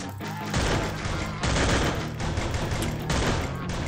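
Sustained automatic gunfire from a CG-15 weapon in Free Fire, loud and continuous with dense rapid shots and brief gaps, no talking over it.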